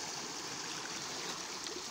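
Irrigation water flowing into a wheat field, a continuous faint rushing and gurgling hiss with no pauses and no voices.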